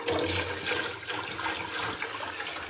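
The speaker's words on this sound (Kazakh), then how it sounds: "Енді үстіне тағы да қосымша су құямын." Extra water poured into strained broth while making naryn, a splashing, gushing pour that runs steadily for a few seconds at moderate level, with no talk.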